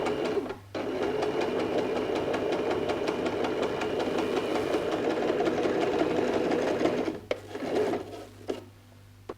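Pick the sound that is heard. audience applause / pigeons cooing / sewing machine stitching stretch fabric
sewing machine stitching stretch fabric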